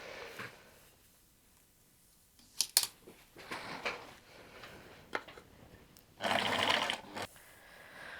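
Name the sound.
sewing machine zigzag stitching a sweatshirt dress hem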